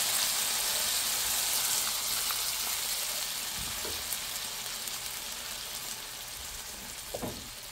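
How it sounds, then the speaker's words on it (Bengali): A dense hiss of hot oil tempering (bagar) poured into lentil dal opens loud and settles into a softer, even sizzle over a few seconds, with a couple of faint clinks, close and without talk. "এখন ডালটা বাগার দিয়ে দেবো।"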